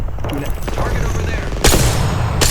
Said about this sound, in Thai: เฮ้ยมีคนยิง